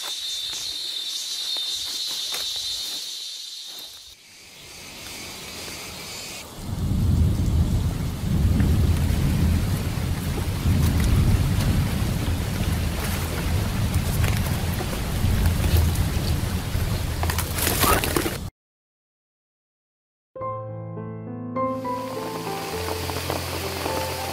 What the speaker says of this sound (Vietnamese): Mình đang đi đặt bẫy thì bỗng dưng trời nó mưa ầm ầm xuống mọi người ạ. Trận mưa này nó quá to luôn.